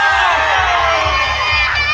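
Festival street party crowd at the Bangus Festival in Dagupan City, Pangasinan, loud and close, with sustained shouting and cheering over a pulsing low beat of music.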